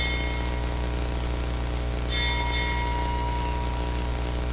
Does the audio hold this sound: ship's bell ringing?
yes